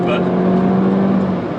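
Lohen-tuned Mini GP3 exhaust holding a steady, deep droning tone inside the car, loud and constant, with a brief spoken word at the start.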